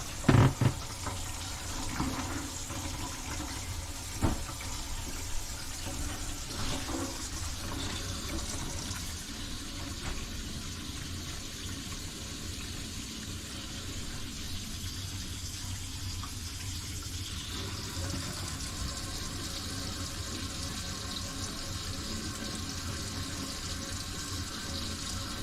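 A steady, close rush of water running from a leaking kitchen sink faucet, continuous and fairly loud, with a few clunks and knocks at the start and no talking.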